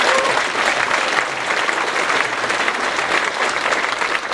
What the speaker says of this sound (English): How about another round of applause for that?